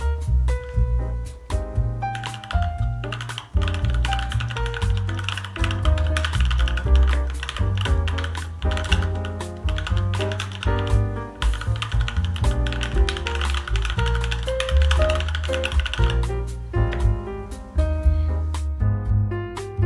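A custom mechanical keyboard fitted with GMK Laser keycaps is typed on at a brisk, continuous pace, its keys clacking close and crisp for about twenty seconds with no talk.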